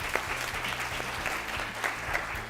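Steady applause from an audience, a dense patter of hand claps filling the room for a couple of seconds with no voices on top.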